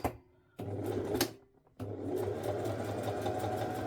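Sewing machine back stitching on a coat, with a motor that whirs in two bursts separated by a brief pause, the second run long and steady, close and loud.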